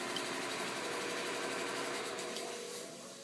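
A long-arm sewing machine turned over by hand while its timing is set, giving a soft mechanical whirring and clicking that runs steadily and then tapers off at the end.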